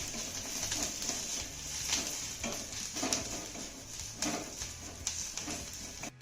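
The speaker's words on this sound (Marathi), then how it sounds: "सर्व साहित्य आपल्याला पुन्हा एक ते दोन मिनिटं चांगलं परतून घ्यायचं आहे" Dry coconut, garlic cloves and ginger roast and sizzle in a pan while being stirred, a steady close crackle with scattered scraping taps running throughout.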